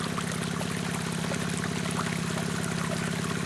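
Water pouring steadily across gold sluice matting, a continuous close rushing flow with a fine rhythmic ripple and constant hiss, no voices.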